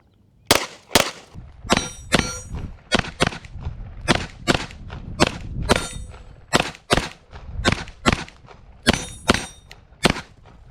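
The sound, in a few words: Tisas 1911 9mm pistol shots hitting steel targets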